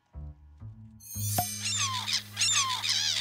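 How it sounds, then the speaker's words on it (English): Seagulls squawking over a beach scene, a run of sharp, rising calls repeating close and clear above a steady low hum. "It's the squawking sound of the seagulls."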